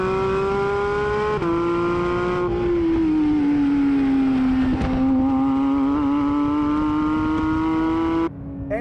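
A Porsche 992 GT3 engine revs to 9,000 rpm, screaming loudly and continuously, its pitch holding high with slight dips and rises, close and unbroken for several seconds.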